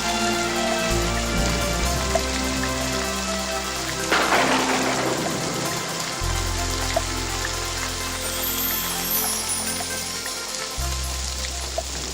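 Rain falls steadily, a continuous patter and splash with a low hum underneath and a brief surge of water sound midway.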